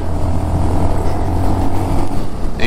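A 2022 Honda Monkey 125 in fourth gear gives a steady, close engine drone with wind noise, holding fairly even for a few seconds without talking.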